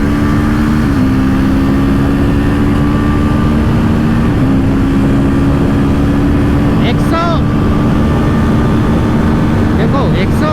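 Two motorcycles, a TVS Apache RTR 310 and a Husqvarna Vitpilen 250, race side by side in a drag run, steady engine drone with a rising whine near the end, a voice talking over it throughout.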